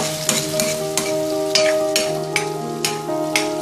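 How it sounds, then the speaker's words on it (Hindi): Two ingredients lightly frying in a pan for eggplant bhurta, with a steady sizzle under repeated scraping stirs at a fairly even rhythm, close and moderately loud, no voices. "हल्का सा फ्राई करेंगे इन दोनों चीज़ों को"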